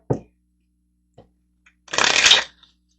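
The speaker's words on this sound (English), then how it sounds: "I'm going to grab 2 cards for you." Tarot cards are handled, with a few soft taps and flicks followed by one quick riffle shuffle of the deck, close and crisp, with no talking.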